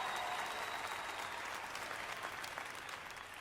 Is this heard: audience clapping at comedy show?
yes